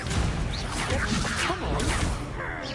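An Incendio fire spell is cast in Hogwarts Legacy, giving dense, fiery whooshes and crackling bursts that fill the short moment at moderate loudness.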